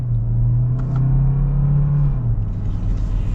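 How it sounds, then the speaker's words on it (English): A 2021 Kia Sorento Hybrid in sport mode under full-throttle acceleration, heard from inside the cabin as a loud, steady engine drone that climbs in pitch, then drops at a gear shift and carries on with road rumble. "We'll see how this does with a full-blown acceleration."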